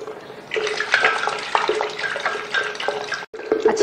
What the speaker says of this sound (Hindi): इसको हम चलाएंगे चीनी शामिल करके